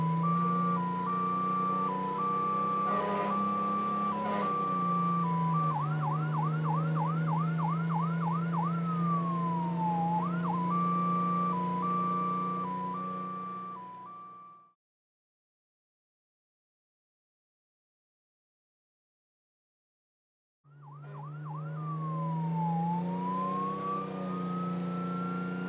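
A Dutch fire engine siren wails loudly and continuously with a rising and falling tone over a deep engine rumble, cuts to silence for several seconds, then resumes.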